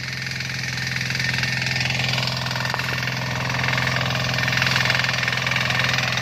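A Sakura 178 walk-behind tiller engine runs at a steady idle nearby, a constant low chugging drone with a fine rapid pulse, loud and unbroken with no talk.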